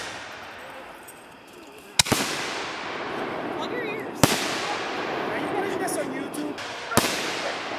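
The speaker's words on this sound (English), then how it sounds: "We out here and we doing some fireworks." Fireworks go off outdoors at night near a cabin, three sharp loud bangs spaced a couple of seconds apart, each followed by crackling and a long noisy tail, with people talking faintly in the background.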